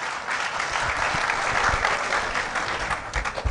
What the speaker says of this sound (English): Let's clap for Mr. Afeni.